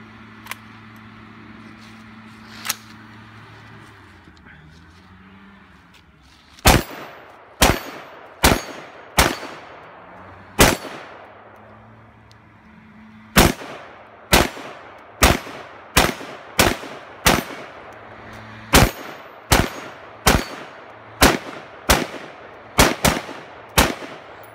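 A Smith & Wesson M&P Sport II AR-15 rifle fires outdoors: sharp loud reports, two isolated shots early, then a long sequence of steady single shots at roughly one-second intervals, each followed by a brief ringing decay.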